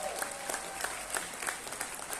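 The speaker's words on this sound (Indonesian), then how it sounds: "Tepuk tangan dong buat Obasan." Applause for Oba Sang from AFC Japan at an Indonesian business event, a steady, moderately loud wash of many hands clapping with a few sharper claps standing out, and no voices.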